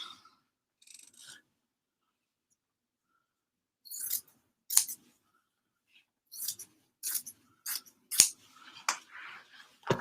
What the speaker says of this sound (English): Let me cut a piece.